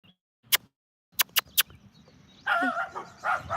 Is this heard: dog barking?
yes